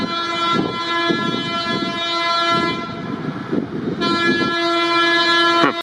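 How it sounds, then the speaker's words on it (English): A train sounds its horn loudly at a road crossing in Costa Rica, long sustained blasts with brief breaks, close and dominant over rumbling rail noise. "So what happens is the train just horns really loudly."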